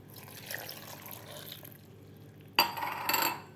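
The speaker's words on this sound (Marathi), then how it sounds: "त्यामध्ये आपल्याला अर्धा ग्लास पाणी घालायचं आहे" Half a glass of water is poured into a mixer jar holding orange segments. After a quiet stretch, a short, close splashing pour comes in two bursts near the end.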